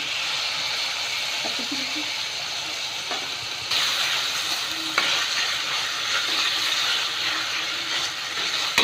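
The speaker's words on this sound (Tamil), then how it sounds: "இப்போ தக்காளி வந்து வதங்கிட்டு இருக்கு." Tomatoes sautéing in a pan for kadalai maavu kuzhambu, a steady broad sizzle that grows a little louder midway, with a few faint stirring knocks and no voices.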